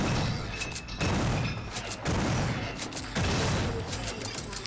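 Heavy shotgun blasts in the video game System Shock 2, three loud booming shots spaced about a second apart, each followed by a short mechanical rattle and decaying rumble.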